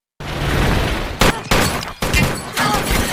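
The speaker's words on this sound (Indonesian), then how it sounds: "Dia pun menodongkan pistol ke arah Travis, hingga pada saat itu terjadi baku tembak" Rapid bursts of gunfire in a film shootout crackle in dense volleys, broken by brief pauses and a sharp blast, loud and close.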